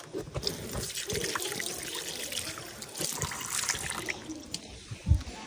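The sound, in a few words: washing hands under running water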